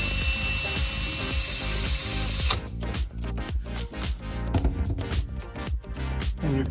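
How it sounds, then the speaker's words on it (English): Allen wrench turning a long nut out of a Chief frame machine hydraulic ram during an overhaul, giving loud, dense ratcheting clatter with a steady high whine at first, then choppy, irregular mechanical rattling and knocks. "we're gonna take this nut out."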